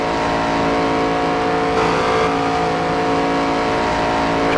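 A NASCAR race car in a video game roars down the back straightaway, its engine a steady, loud drone that holds its pitch throughout, with no talk over it.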